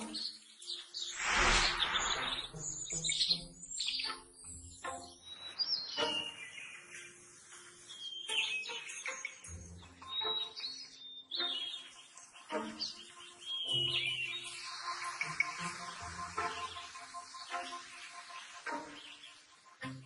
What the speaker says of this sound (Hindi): Masters of the sky, hummingbird.